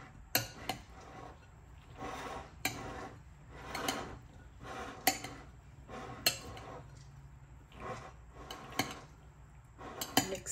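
Cold macaroni salad mixed in a bowl, with repeated clinks and scrapes of a utensil against the dish in an irregular rhythm, close and moderately loud, with no talking.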